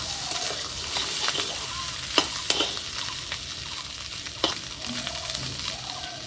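Fish roe frying with bitter gourd and potato sizzles steadily in a pan, with occasional sharp scraping stirs and a few clinks, close and moderately quiet.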